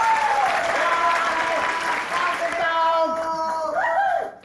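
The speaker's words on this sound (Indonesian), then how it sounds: "Tepuk tangan buat Sam semuanya." Applause from a classroom of students greeting Sam in an Indonesian campus film, a steady wash of clapping with music tones running through it, fading out at the end.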